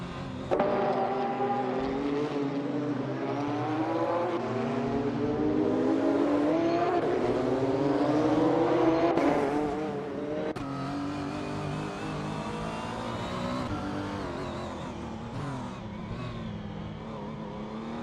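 Race cars in an AI racing video game drone and rev together in a tight pack, engine notes rising and shifting steadily with no speech heard.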